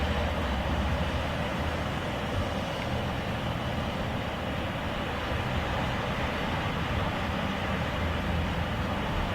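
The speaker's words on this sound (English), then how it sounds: "this train will head eastward along the St. Louis and Indianapolis lines" A BNSF eastbound grain train passing in downtown St. Paul, a steady loud rumble and rolling roar of freight cars that holds evenly throughout with no voices.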